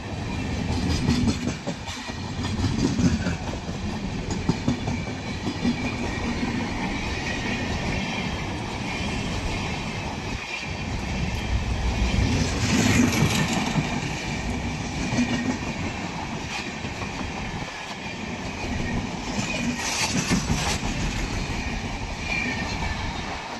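An Indian passenger train rolls past steadily with continuous rumbling and rhythmic clickety-clack of wheels on rails, swelling slightly at moments over a long stretch.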